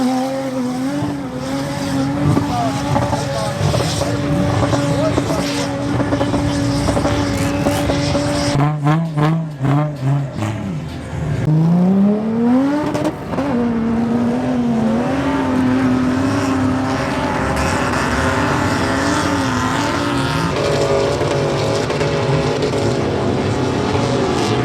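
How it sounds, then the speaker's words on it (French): Several 4x4 vehicles claw up a tall desert sand dune at a festival in the United Arab Emirates, engines roaring loudly and revving up and down, with a sharp burst of shifting and bouncing midway before the steady climbing drone returns. "chacun peut venir avec son propre véhicule pour essayer d'atteindre le sommet de la dune"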